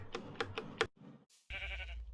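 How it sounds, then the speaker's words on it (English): Minecraft sheep bleating in a modded game world: a few short, quick bleats close together, followed by brief soft game sounds and a burst of steady noise, with no talking. "One of the sheep has run away."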